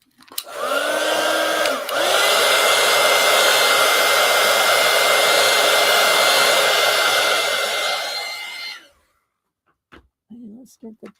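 Hair dryer blowing on wet gouache and acrylic marker paint, a loud continuous whoosh that briefly cuts out near the start and runs about seven seconds before switching off, followed by faint handling sounds.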